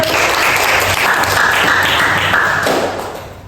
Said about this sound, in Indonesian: Oke, tepuk tangan semuanya karena betul.